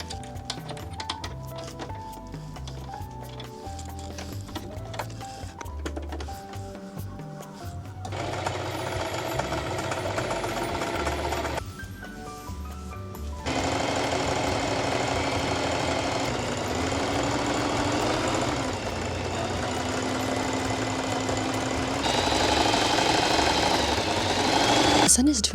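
A sewing machine stitches fabric for a dog cage cover, its steady mechanical whir running in sustained bursts with brief pauses between seams, close and fairly loud.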